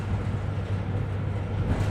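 Steady low rumble of a subway train in motion, a continuous droning hum with no distinct events, moderately loud and constant throughout.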